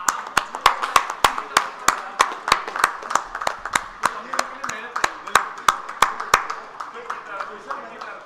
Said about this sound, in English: Please give him a great applause.